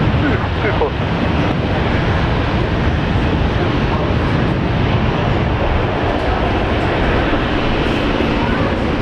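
An airliner taking off from runway 19 left at Brisbane Airport: a loud, continuous broadband engine roar that holds steady throughout, with no gaps.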